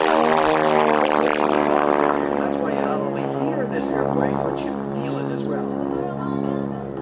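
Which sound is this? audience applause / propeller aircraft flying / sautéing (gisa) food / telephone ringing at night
propeller aircraft flying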